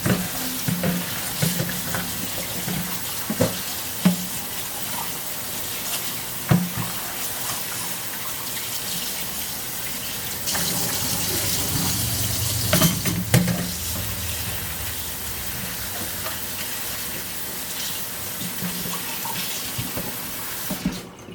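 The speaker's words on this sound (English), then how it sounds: "once you have all your cabbage in the colander, you want to rinse it with cold water." Cold tap water pours steadily over salted cabbage in a colander, a continuous hiss and splash with occasional clatter as the leaves are turned and rinsed.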